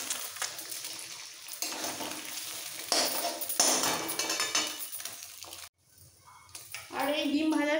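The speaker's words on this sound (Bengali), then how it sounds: "আর এই ডিম ভাজার সময় দিয়ে দেবো অল্প করে নুন," Cracked eggs, three of them, frying in a pan with salt and pepper, a bright close sizzle with stirring scrapes that break off briefly and then return, with speech over part of it.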